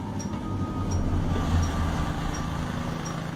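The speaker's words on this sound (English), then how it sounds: "small empty train car with an empty caboose slowly moves along the track" A small empty train car with an empty caboose rolls slowly and steadily along the track with a low rumble and faint periodic clicks from the wheels, fairly close and continuous.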